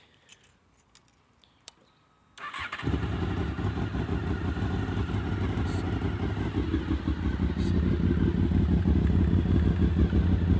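A few faint clicks and rattles, then a Honda VFR800Fi motorcycle engine starts and settles into a loud, steady idle that continues to the end.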